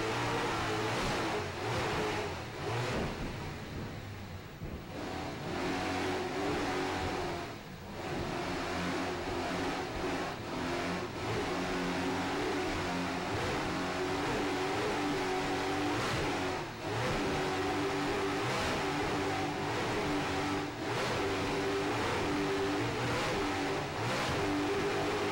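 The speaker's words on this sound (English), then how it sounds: "Hear those Mercury Super Cat engines screaming along there, going head north up the beach in St. Petersburg" Mercury Super Cat powerboat engines race north along the beach at St. Petersburg with a steady, loud, continuous roar and shifting throttle swells, sustained across the whole stretch with no talk.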